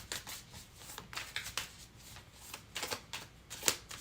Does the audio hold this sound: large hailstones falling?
no